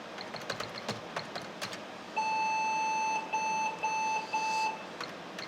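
AlphaServer computer beeping at boot: a steady electronic tone sounds in short repeated bursts for about two seconds, with faint clicks and keyboard taps before it in a quiet room.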